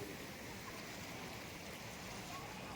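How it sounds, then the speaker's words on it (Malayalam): Clear water of the Kalikesam river flows calmly with a faint, steady, even rush and no distinct splashes or voices. "ഇപ്പം നല്ല ശാന്തമായിട്ട് ഒഴുകുന്ന തെളിഞ്ഞ വെള്ളം മാത്രമേ ഇവിടെ ഉള്ളൂ"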